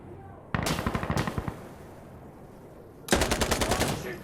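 RPK machine gun fire in the video game Insurgency Sandstorm: two loud, close bursts of rapid automatic shots, the first about one second long and the second about a second and a half, separated by a quieter pause.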